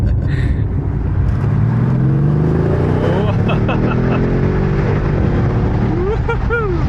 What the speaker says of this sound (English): So it's really nice to hear the engine again.